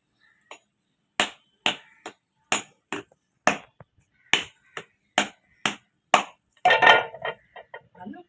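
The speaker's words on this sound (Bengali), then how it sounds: "এবার নারকেলগুলো ভেঙে নেবো, দিয়ে কুড়ে নেব।" Coconuts cracked open and then grated in a home kitchen, heard as a series of sharp, separate knocks at a steady pace, then a short scraping rasp of grating followed by a few more taps, close and clear.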